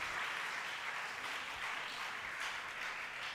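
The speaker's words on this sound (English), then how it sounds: "Let's give a round of applause" An audience at a school investiture ceremony applauds the chief guest, a dense, sustained wash of many hands clapping at an even level from a sizeable crowd, with no talking.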